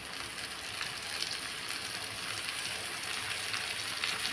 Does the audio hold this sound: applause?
no